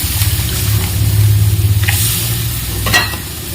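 Water poured into a hot pan of mustard paste for a Mourala small-fish curry, a steady close sizzle and stirring hiss with a short splash near the end, no talking.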